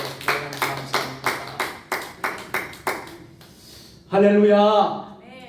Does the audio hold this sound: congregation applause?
yes